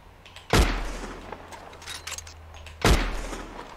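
Gunfire in the Red Dead Online video game: two sharp, loud shots about two seconds apart, each trailing off in a short echoing decay.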